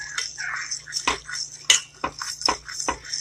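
Caramel of sugar and cream stirred in a pot, with a utensil scraping and clinking against the metal in irregular close strokes, some sharper taps between.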